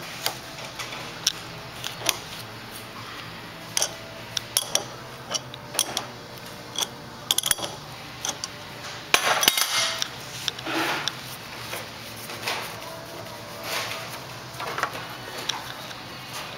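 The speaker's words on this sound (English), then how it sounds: "we're going to take the mixer off here" Metal parts of a mixer being removed from an adapter: sparse, light clicks and clinks of metal handling at close range, quiet and unhurried, with no talking.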